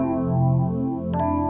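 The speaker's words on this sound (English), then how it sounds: "let's go with the micro phaser and let's see if we can warp the sound a little bit" A sustained synth tone processed with a micro phaser plugin, giving it a warped, swirling phasing character, a smooth harmonic chord held steadily with a brief brighter flutter near the end.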